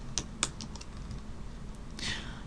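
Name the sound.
typing on a computer keyboard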